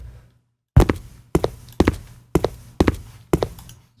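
Footstep and jump effects in a Unity 3D game: six sharp thuds after a short silence, roughly evenly spaced, each with a quick decay, played dry and close with no background hum.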